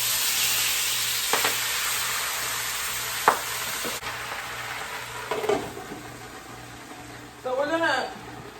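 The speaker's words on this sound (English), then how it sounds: "So we're going to just move them around in the pan a little bit." Collard greens sizzle steadily in a frying pan as they are stirred, a constant frying hiss broken by occasional scrapes and clatters of the utensil, with a voice talking over it.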